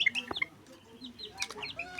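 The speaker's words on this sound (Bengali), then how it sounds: "আমার এই মুরগিগুলোর দিকে দেখুন" Chickens kept under guard give a few brief, soft clucks and chirpy calls close by, scattered across two seconds with nothing else heard.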